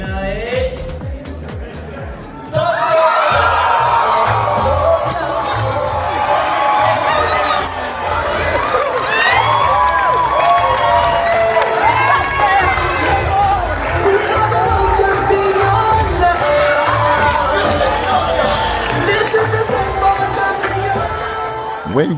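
A large crowd bursts into loud cheering, whooping and shouting as the winner of a startup pitch competition is announced, a sudden roar that stays dense and sustained, with voices mixed through the din.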